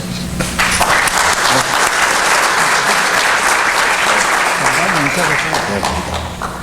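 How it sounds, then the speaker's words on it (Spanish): A conference audience at a round-table panel on mining royalties in Peru applauds its speakers; sustained, dense clapping fills the room, with some talk and murmuring faintly underneath. "Vamos a brindarle un aplauso a nuestros expositores."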